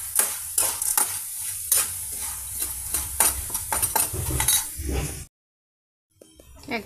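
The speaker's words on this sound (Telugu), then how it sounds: "బంగాళదుంపలు ఈ విధంగా ఫ్రై అవుతున్నాయండి" Potatoes frying in oil with curry leaves, stirred in a pan: a sizzle under repeated clinking and scraping spatula strokes, close and busy, then a brief silence before the sizzling returns faintly.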